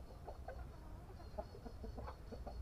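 Native chickens and a rooster in a backyard flock cluck intermittently at a distance over a steady low background hum, with no voices present.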